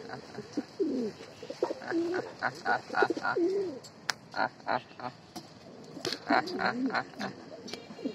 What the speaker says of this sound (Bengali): এটা গিরিবাজের নর, এটা হচ্ছে গিরিবাজ পেয়ার